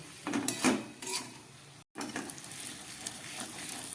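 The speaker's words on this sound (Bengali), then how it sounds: "এটাকে আরো 2-3 মিনিটের মতো আমি একদম গ্যাস কমিয়ে কষিয়ে নেব আলু আর মশলাটাকে" Fried potatoes and spices sizzle gently in a pan over low heat, with soft scraping and clinks from stirring, interrupted by a brief silent cut.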